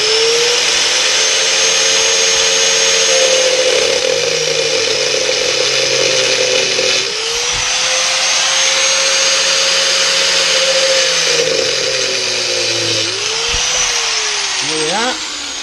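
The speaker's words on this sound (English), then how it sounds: "I decided I'm going to start it with the grinder and then finish it off with a little handsaw." An angle grinder cuts into a part for a Lamborghini Countach kit car with a loud, continuous high whine that dips and recovers several times as the load changes, close up and alone.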